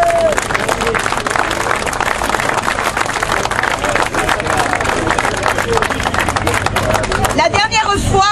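Sustained applause from a large crowd, dense steady clapping filling the whole stretch with a murmur of voices beneath, tailing off near the end.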